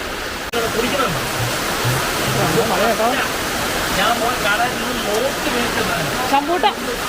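Heavy rain pours down in a steady, dense hiss that fills the whole clip, with faint voices or chirps now and then.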